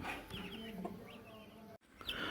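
A mother hen gives soft, low clucks up close while tiny high chick peeps chirp around her as she shelters them under her wings.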